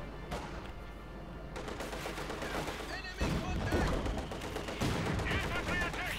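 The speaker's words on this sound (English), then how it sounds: "Further mortar fire." Mortar fire in a Company of Heroes 2 one-versus-one match: repeated booming blasts and crackling gunfire, growing louder about halfway through, with a voice talking over the battle.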